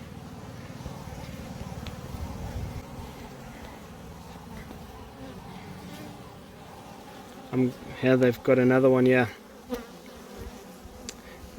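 Honey bees buzzing around a hive infested with Capensis bees, a steady drone close to the recording with a louder burst of buzzing passing near, while a person talks briefly.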